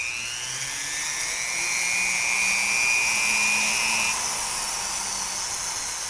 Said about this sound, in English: It's a flex shaft tool, but you can use a Dremel. I would recommend one with a flex shaft